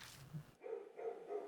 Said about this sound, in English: The dogs from the neighborhood are barking again.